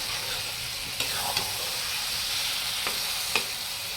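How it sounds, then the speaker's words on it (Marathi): Spiced brinjal for baingan bharta sizzles steadily in a hot pan, with a few faint scrapes of the stirring spoon over the constant frying hiss. "ह्याला चांगलं परतून घेऊया आपण मसाले सगळे वांग्यात मिक्स झाले पाहिजे"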